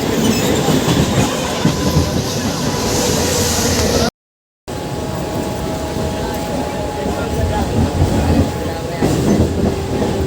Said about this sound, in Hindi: हम लोग ट्रेन में बैठ चुके हैं और कुबेरेश्वर धाम जाने वाले हैं